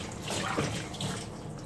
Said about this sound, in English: This is the water pouring out of the machine.